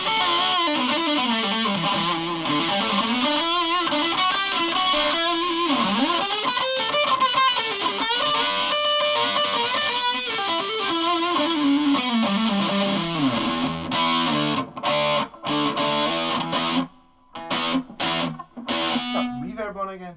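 Electric guitar with a Seymour Duncan Invader bridge pickup in an Emily the Strange SG, played through heavy distortion with a wah pedal, sustained riffing and bends, loud and close, breaking into choppy stabs near the end.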